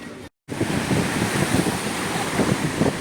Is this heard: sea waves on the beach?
yes